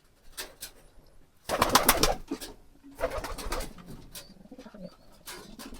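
Sirazi pigeons coo in a loft, a few soft throaty bursts of cooing and wing-shuffling close by, separated by short quiet gaps.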